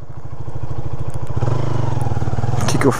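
A BMW 1200 motorcycle engine runs close by with a steady, throbbing low rumble that swells slightly partway through. Nobody speaks.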